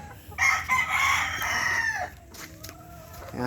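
A Sue Wilson Gilmore gamefowl rooster crows once, close and loud, in a long drawn-out call. Fainter clucks and other farm fowl sounds carry on behind it.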